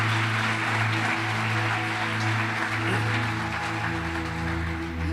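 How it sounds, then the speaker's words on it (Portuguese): A church congregation applauds for Jesus during a sermon, a dense, steady wash of clapping that fills the room and continues throughout, with sustained organ or keyboard tones under it. "Vamos dar uma salva de palmas para Jesus?"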